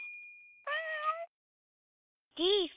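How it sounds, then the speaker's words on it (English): A cartoon-like cat gives two distinct meows, a longer one and then a short rising one, clear and close, with a steady tone and a ding before it. "C for cat."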